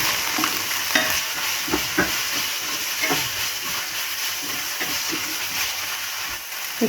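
Chickpeas frying with onion in a pan for an Ethiopian dish, a steady hissing sizzle with scattered soft scrapes and clicks of stirring, close and continuous without talk.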